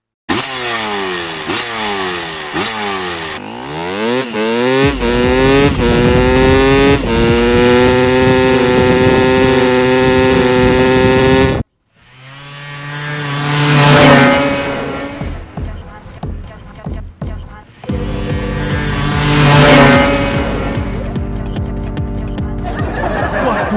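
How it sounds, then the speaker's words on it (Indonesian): Cartoon motorcycle with a new, very loud exhaust revving hard: a rising and falling engine whine climbs, holds a steady roar, cuts off, then comes back in loud surging bursts close up, with no talk. "Tuh, dengerin suara knalpot baruku. Suaranya ngalahin jet tempur."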